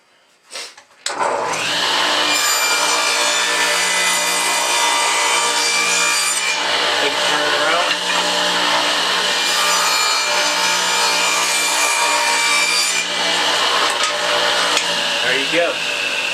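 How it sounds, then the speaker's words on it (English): A power saw cuts steadily through poplar wood for beehive frames, a loud continuous whine and rasp lasting many seconds after a brief start-up, with slight changes in pitch as the cut proceeds. "when you do this cut for this one here, you're going to do the same for this one here"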